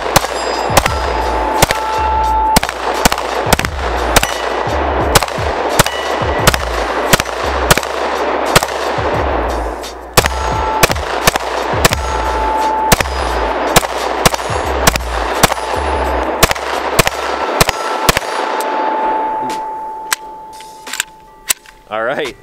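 Rapid strings of sharp gunshots from a Syndicate S2 compact pistol emptying a 50-round magazine, loud and close, with brief pauses between bursts and fast cracks stacking over a steady rumble.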